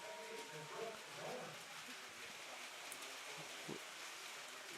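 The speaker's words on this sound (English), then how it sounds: "And now the rain's really coming down." Steady heavy rain pours down at an outdoor softball game, a broad continuous hiss with a few faint distant voices beneath it.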